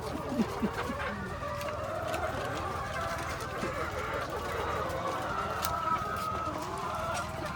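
Farm chickens cluck and squawk continuously close by, a busy flock chattering over a steady background hum, with faint voices talking underneath.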